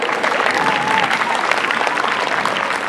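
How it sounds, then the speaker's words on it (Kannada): Loud, sustained applause from an audience at a Kannada Rajyotsava celebration, a dense wash of clapping filling the whole stretch. "ಚಪ್ಪಾಳೆ."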